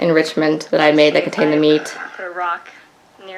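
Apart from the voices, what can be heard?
No everyday noise stands out behind the speech.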